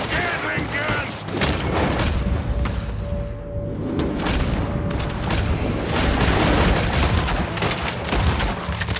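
A Gatling gun fires in a bank shootout in Red Dead Redemption 2 on PS4: a dense, loud, continuous hail of rapid shots and booms runs the full stretch, with voices shouting over it.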